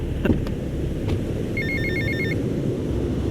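A payphone rings in GTA Vice City at an airport terminal, a short burst of repeated electronic trills over a steady low rumble of ambient game noise, with a couple of faint knocks just before.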